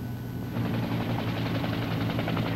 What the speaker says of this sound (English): a television news camera helicopter overflew the crash site